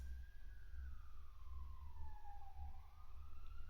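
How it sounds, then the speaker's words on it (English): Police siren wailing in the distance, a single falling-then-rising sweep over a low rumble of traffic, faint and far off with no talk. "police sirens"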